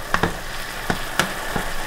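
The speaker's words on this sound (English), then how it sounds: "Get all the meat browned." Meat browns in a hot pan with a loud, close sizzle, punctuated by several sharp scrapes and taps as a utensil moves the pieces around.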